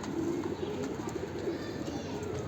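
Soft, low cooing from a bird repeats steadily at moderate distance against a faint background hiss.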